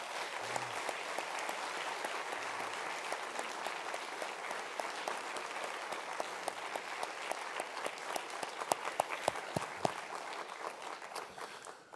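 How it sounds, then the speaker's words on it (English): Audience applause fills a senior awards night hall, steady sustained clapping from a sizable crowd for about twelve seconds, with a few sharper individual claps standing out near the end. "Let's give them a round of applause."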